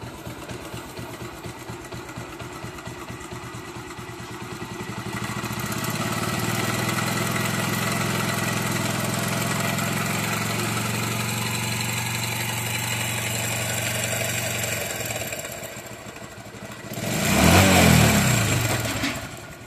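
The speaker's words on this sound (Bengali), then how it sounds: "এই বাইকটির সমস্যা হলো গিয়ে আপনার বাইকটির ইঞ্জিন থেকে প্রচুর ব্যাড নয়েজ আসে।" A Bajaj Discover 125cc motorcycle engine idles with a rough, faulty noise, a steady close rhythmic chug that rises in pitch and volume midway and swells briefly near the end, with no speech.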